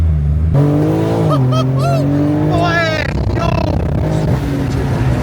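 A tuned BMW G82 M4 with a stage 1 tune revs up hard, its pitch climbing through gear changes, loud and close, with a voice talking over it.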